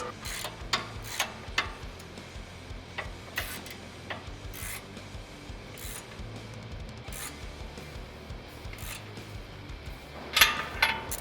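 A ratchet on a 3-inch extension threads nuts onto the studs of a Rugged Ridge HD stubby front bumper on a Jeep Wrangler JL, sounding as repeated quiet clicking and rasping strokes with a few sharper metallic ticks near the end.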